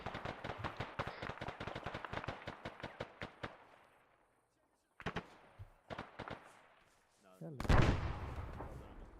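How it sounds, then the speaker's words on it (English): A frag grenade thrown into a compound in the video game Arma goes off amid rapid bursts of gunfire, the shots crackling in dense runs, a short lull, then a heavy close blast near the end. "if you are clear of the compound, we're going to throw a frag inside"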